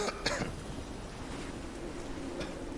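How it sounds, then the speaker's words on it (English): A person gives a couple of short, muffled coughs at the start, off to the side of the microphone, followed by quiet room ambience. "cough that way away from the mic"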